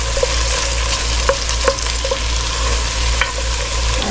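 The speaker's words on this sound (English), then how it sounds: "Stir it around for just about a minute" Onions cooking in a pot, stirred around: a constant sizzle over a low hum, with several distinct scraping and clinking strokes of a spoon against the pot, close-up and with nobody talking.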